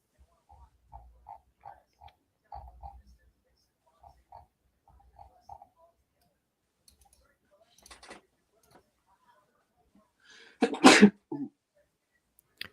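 After several quiet clicks and faint shuffles, one sharp, loud sneeze bursts out near the end, close to the listener.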